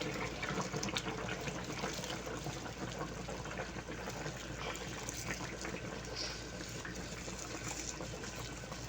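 Coconut milk poured into a pot of chicken curry with cooked potatoes, a faint continuous liquid gush and splash lasting throughout, steady and unbroken.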